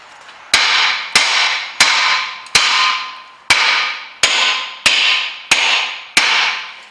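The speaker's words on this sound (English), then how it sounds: "it's always a good thing just to kind of hit it with the hammer first" A hammer strikes a car's back wheel bearing hub nine times in a steady rhythm, each loud metallic blow ringing out briefly before the next.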